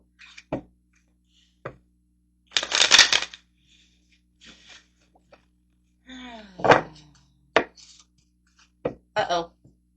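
Tarot love cards are shuffled and handled up close, with sharp riffling bursts and scattered clicks and taps between quiet gaps, while a voice speaks intermittently.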